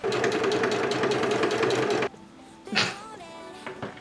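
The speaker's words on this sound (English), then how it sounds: "my sewing machine is set up, my zipper's in place, I got the zipper foot on" A sewing machine with a zipper foot whirs steadily at speed for about two seconds while stitching in a zipper, then stops, followed by faint handling noises and a soft rustle.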